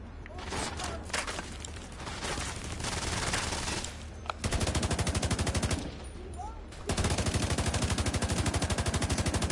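Rapid bursts of video game gunfire in a glass cannon build test, with long sustained automatic volleys crackling loudly and steadily, broken by brief pauses and some busy background noise.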